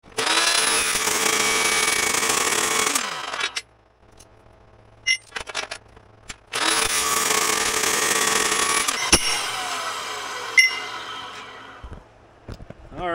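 A power saw cuts through steel bar stock in two loud, sustained passes, each several seconds long, with a quiet gap between them and some clanks and rattles of metal afterward.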